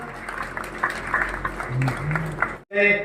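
Sustained applause from a crowd, a dense wash of clapping that continues before a brief gap and a swell of music or cheering.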